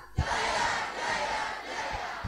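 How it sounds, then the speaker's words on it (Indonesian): A seated audience at a formal signing ceremony shouts a short, loud rhythmic chant in unison, three broad swells of voices with a sharp clap at the start and end. "audiens bisa jawab dengan jaya, jaya, jaya sambil mengepal tangan"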